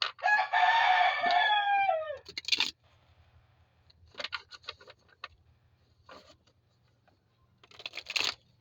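A rooster crows loudly outdoors in one long, rising-and-falling call, followed by scattered faint clucks and rustling, then a sharp brief squawk near the end.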